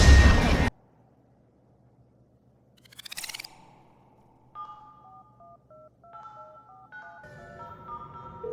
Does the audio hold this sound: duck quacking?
no